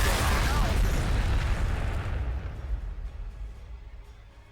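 A frag missile blast in the Warhammer 40,000: Sanctus Reach strategy game, a single loud boom that starts at full force, rumbles heavily and fades out slowly over several seconds, with no other sounds.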